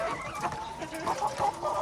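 Chickens cluck busily together, a dense overlapping chorus of short clucks close by with no pauses.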